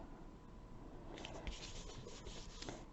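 Two-sided tape being pressed and rubbed onto card in a papercraft project, giving soft rubbing and scratchy swipes in quick strokes over the second half, close and quiet.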